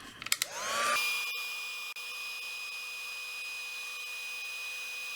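A heat tool heat-sets a stamped card, a steady, close whirring blow with a high whine that spins up after a few clicks and then holds constant, with no talk.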